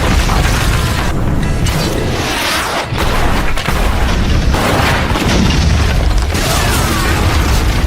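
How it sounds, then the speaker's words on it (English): Loud, continuous battle din from a film fight scene with modern weapons, heavy booms and blasts layered with clanking mechanical noise throughout, with a brief dip midway. "Blasts followed as Judge and his crew launched a surprise attack armed with powerful modern weapons"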